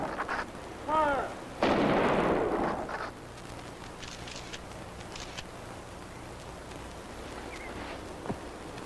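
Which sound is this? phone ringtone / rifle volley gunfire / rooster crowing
rifle volley gunfire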